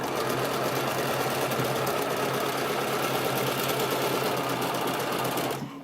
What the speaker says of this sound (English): I'm going to stretch here, and we're going to zigzag